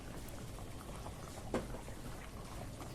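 Fish curry bubbling in a pot over a high flame, a quiet, steady seething simmer with one soft pop partway through.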